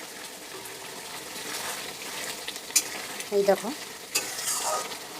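Cumin powder is stirred into pabda fish curry frying in a pan, giving soft scraping strokes over a gentle sizzle, with a brief spoken remark nearby.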